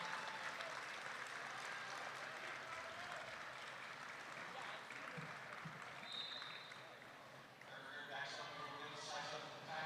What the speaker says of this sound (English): Big round of applause for the effort she's put in.